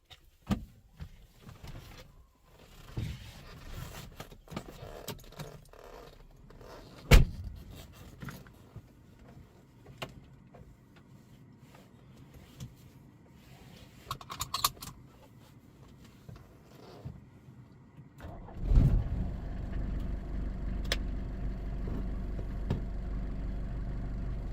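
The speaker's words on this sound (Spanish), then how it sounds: "Vamos a ver el encendido ahora porque es un coche que enciende al toque." Mercedes W123 with over 300,000 km started with the key: quiet shuffling gives way to a sudden crank and catch, then a steady, fairly loud engine idle holding to the end.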